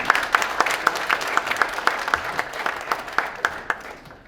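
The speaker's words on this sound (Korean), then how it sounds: "다시 한번 박수 부탁드립니다." A seated audience at a lecture by a former unification minister claps on request, a steady, moderately loud patter of many hands with some sharper individual claps, fading slightly toward the end.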